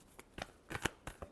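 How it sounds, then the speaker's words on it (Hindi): Tarot cards are shuffled in a quick series of soft, close riffling flicks, a handful of brief papery bursts over about a second. "last shuffle"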